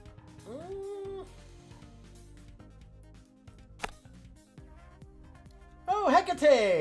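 A pet cat named Hecate meows several times, one rising and falling meow early on and a louder, more insistent caterwaul near the end, with a person talking quietly and faint background sounds.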